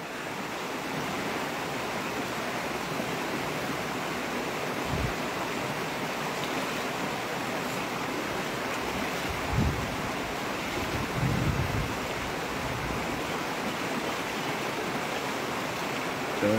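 Cold water of the Pengelatan River flows by as a steady, broad rushing wash, with wind buffeting the microphone and a few faint bumps along the way.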